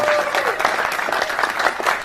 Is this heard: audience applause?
yes